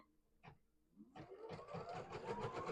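A home machine embroidery unit stitches a placement line for a quilt block, a soft quick rhythmic whirring that starts after a brief tap and runs steadily, faint and close, with no talking.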